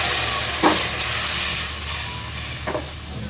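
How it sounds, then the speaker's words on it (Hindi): A ground paste of tomato, ginger and garlic frying in a pan gives a steady, loud sizzle and hiss, with a couple of brief stirring scrapes breaking through. "अच्छी तरह भून लेंगे इन मसालों को।"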